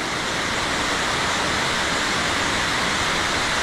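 A waterfall on Koh Samui roars as a steady, dense rush of falling water, loud and close, with no voices over it.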